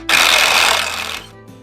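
Ratchet working on a car, apparently a six-door Chevrolet C30 pickup getting an LS engine and 6L90E transmission, making a loud, dense burst of rapid clicking that lasts about a second and then cuts off abruptly.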